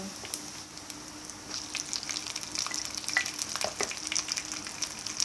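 Thai curry paste stir-fried with pork in a pan, sizzling steadily and crackling close by, with sharp scrapes and taps of a spatula that grow busier toward the end.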